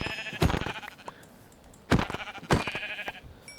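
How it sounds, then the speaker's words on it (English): Sheep bleating in the Minecraft modpack GregTech New Horizons, three or four short, nasal game bleats spaced irregularly, close and fairly loud against a quiet background. "We found sheep."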